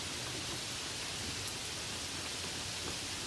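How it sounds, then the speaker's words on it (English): Rain drums steadily on a fiberglass skylight, a dense, even hiss of drops that stays constant and fairly close throughout, with no voices. "The sound of rain on fiberglass is its own particular thing."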